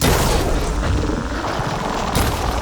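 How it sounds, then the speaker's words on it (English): Glowing crystals detonate in the video game Horizon Forbidden West. Loud, rumbling booms roll into one another in a dense, continuous burst of blasts. "See those glowing crystals? Takes one hit to detonate."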